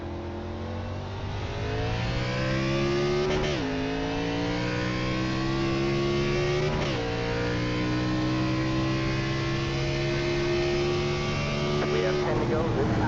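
A race car at Circuit of the Americas roars loudly and continuously, its engine pitch climbing steadily and then dropping sharply at several downshifts before rising again.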